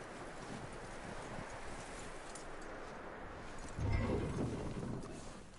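Horse hooves clip-clop in Red Dead Redemption 2, a faint, steady patter of hoofbeats over an outdoor ambience, growing somewhat louder toward the end.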